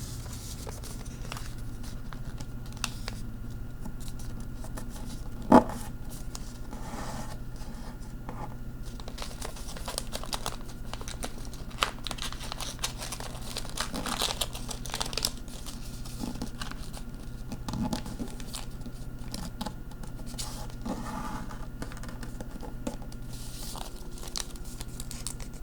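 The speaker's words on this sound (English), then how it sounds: "flip the paper over, and mirror fold using this side as a guide." Sheet of paper being flipped and creased while folding an origami jet, soft crinkling and scattered crisp taps and rustles spread over a long quiet stretch, close but faint.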